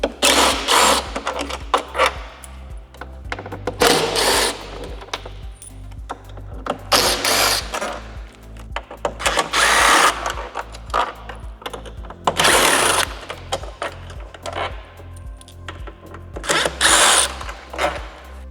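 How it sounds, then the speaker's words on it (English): Power driver running in short bursts as screws come out of the fairing on a 2024-2026 Harley-Davidson Street Glide Ultra, several whirring spurts with pauses between them, close and fairly loud. "There's 6 screws that we're going to remove first, 3 on each side."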